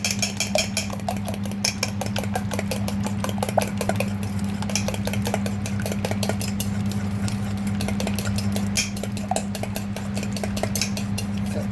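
Rapid, steady clinking of a utensil whisking curry sauce ingredients together in a bowl, continuous and busy, over a constant low hum in the background.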